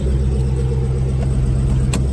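A 2016 Dodge Challenger SRT Hellcat's supercharged 6.2-litre Hemi V8 idling, a deep steady rumble close by with a constant low throb and no talk.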